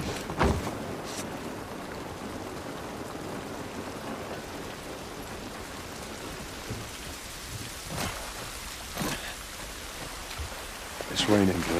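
Steady rain pours outdoors in The Last of Us video game, a dense hiss of drops on surfaces holding throughout, with a few sharper spatters and low rumbles rising near the end.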